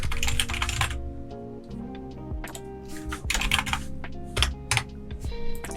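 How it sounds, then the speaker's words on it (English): Rapid keystrokes on a computer keyboard while entering text in Notepad++, a dense run of close, crisp clicks in irregular bursts with brief pauses and no talking. "I would add a line underneath and I would type"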